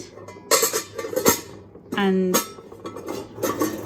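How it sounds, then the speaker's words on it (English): Glass dishes with lids clink and rattle in the top of a hostess trolley, a few bright knocks and one short ringing chime, close up, with someone speaking briefly between them. "glass dishes with lids"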